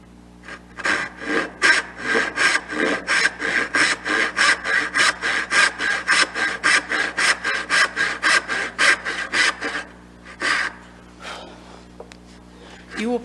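Hand saw cutting dovetail tails in a wooden board, a fast rhythmic series of close rasping push-pull strokes that stops briefly near the end before a couple more strokes.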